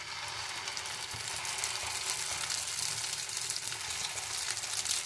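Potato, ginger and chilli bajji fritters frying in hot oil give a steady, dense sizzle with fine crackling throughout, moderately loud and alone without any talk.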